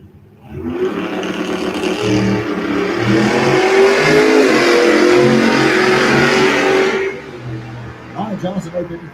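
Drag race cars, a Mercury Capri and a Ford Mustang, launch and accelerate hard down the strip, a loud sustained engine roar that builds for several seconds before cutting back, leaving a lower idle.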